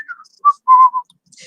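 A storyteller whistles a short, cheerful tune of a few bright, separate notes, a human voice imitating happy whistling in a quiet room.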